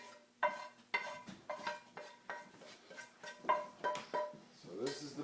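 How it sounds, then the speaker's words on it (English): Butter, onion and meat are stirred into bread stuffing in a bowl, producing a series of regular, rhythmic clinks and scrapes, about a dozen fairly close strokes. "start to stir that in a little bit"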